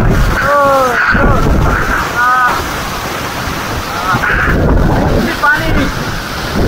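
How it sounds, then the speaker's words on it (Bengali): Strong wind roars near a waterfall on Lombok, a loud, dense, buffeting rush of air and falling water that fills the clip, with people's voices shouting over it in several bursts. "এত জোরে বাতাস হচ্ছে বলে বোঝানোর মতো না"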